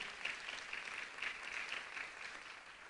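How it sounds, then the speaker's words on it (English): Audience applause for veterans recognized at a public gathering. A steady, moderately quiet clapping fills the whole span with an even crowd texture. "Round of applause."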